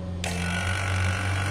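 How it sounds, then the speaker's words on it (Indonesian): An AC refrigerant vacuum pump switches on abruptly after a brief moment of low hum, then runs as a loud, steady, close whirring drone. "Nah, nyalakan vakumnya, bang. Nah. 1 2 3 nyala."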